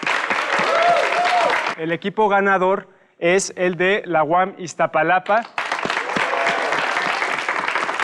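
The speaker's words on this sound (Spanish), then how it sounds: "Un aplauso para ambos equipos porque hicieron un trabajo excepcional." Loud applause from an audience at a televised university competition between teams from the UAM Iztapalapa and the Escuela Superior de Economía breaks off for a short announcement by a voice, then returns as a full, steady burst of clapping.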